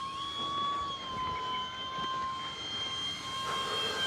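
An E-flite P-47 Razorback 1.2 RC model warplane on 3S 2200mAh packs making a slow pass, its electric motor and propeller giving a steady high whine that shifts slightly in pitch as it flies by outdoors.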